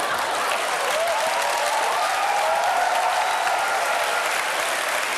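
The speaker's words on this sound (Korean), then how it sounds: "이렇게 박수를 치면은 칼로리 소모가 많이 된다고 그러는데" A studio audience at a Korean TV comedy show claps steadily and loudly for several seconds, a dense, even wash of applause with faint cheering voices mixed in.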